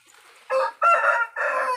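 Rooster on a farm raising native chickens, a close, loud crowing call in three strong bursts after a faint opening, with no voices.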